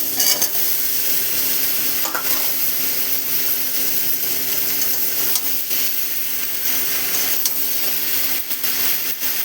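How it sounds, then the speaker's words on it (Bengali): Spiced prawns being stir-fried in a pan for a Bengali prawn and Malabar spinach dish, with a steady loud sizzle and occasional scrapes of a spatula against the pan, no voices. "ভালো করে নাড়াচাড়া করে কষিয়ে নিলাম।"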